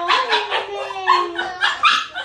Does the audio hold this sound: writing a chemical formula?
no